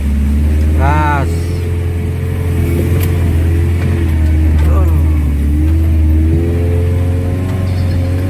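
Car engine held at low, steady throttle while creeping forward, a continuous mid-range drone running throughout with slight swells, close and loud, with people talking over it.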